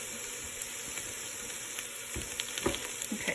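Garlic sautéing in a pan for garlic soup, a steady soft sizzle with a few stirring clicks and scrapes toward the end, close and fairly quiet.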